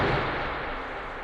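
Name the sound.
gunshot in a gangster film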